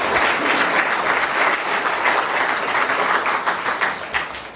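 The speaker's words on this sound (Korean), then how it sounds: "나도 모처럼 만났는데 박수 한번 쳐주십시오." A church congregation at a Sunday worship service applauds in a dense, steady wave of clapping that fills the room and holds at full strength, easing slightly at the end.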